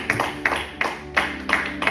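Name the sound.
congregation applauding in church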